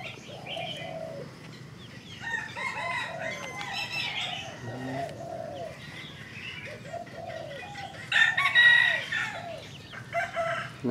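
A red-eyed jungle fowl decoy rooster crows and clucks repeatedly, with several close, fairly loud calls and a stronger crow near the end, no talking.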